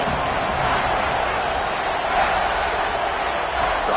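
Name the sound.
football stadium crowd cheering on 3rd down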